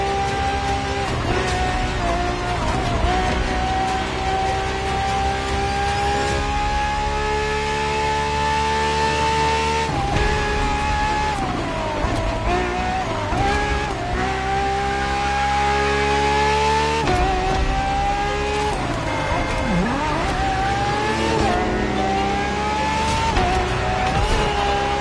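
Racing car engine revving hard and driving, a loud continuous high-pitched roar that climbs through the gears with brief dips at each shift, close and steady for the whole stretch.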